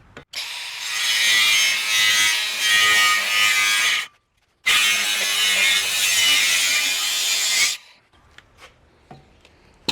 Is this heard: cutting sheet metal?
yes